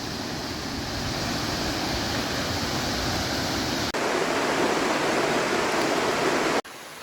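Creek water rushes where it flows out of the woods, a loud and steady broadband wash with two abrupt cuts near the end.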